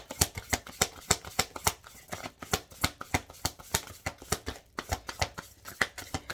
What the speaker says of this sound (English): we're going to pull a couple of more oracle cards